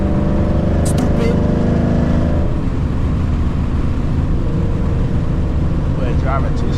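A Ford Mustang Striker on the move, its engine droning loud and close under a constant road roar, with the engine note dropping partway through; voices talk over it.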